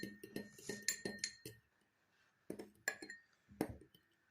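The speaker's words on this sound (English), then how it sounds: "Now mix the food color and oil with the fork." A fork stirs food coloring and oil in a small dish, giving a rapid run of close metallic clinks and scrapes for about a second and a half, then a pause, then a few sharper separate taps. No one speaks.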